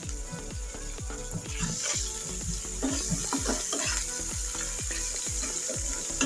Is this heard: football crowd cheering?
no